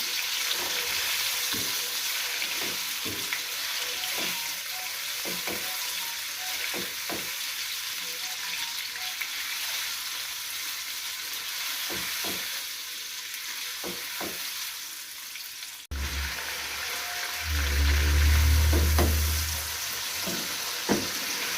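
Chicken pieces fry with garlic in a pan for chicken manchurian fried rice, giving a steady close sizzle with scattered stirring clicks. A louder low burst of bubbling comes near the end.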